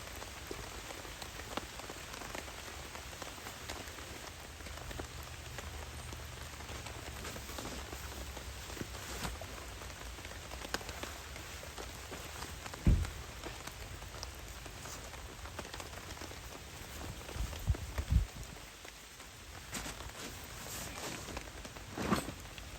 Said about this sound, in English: Even though it's raining, and it's raining heavy